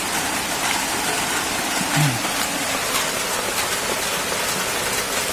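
Steady rain falls on a guppy farm in a dense, even patter that continues throughout, with a faint low sound briefly surfacing partway through.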